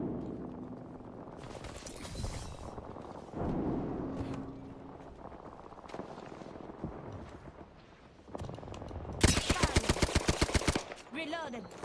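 Gunfire in a shooter video game, scattered bursts building to a fast, loud, evenly spaced automatic volley near the end, with a voice speaking in places.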